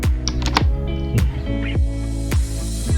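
Keys clack on a computer keyboard in quick, irregular bursts of sharp, close taps, with no talking.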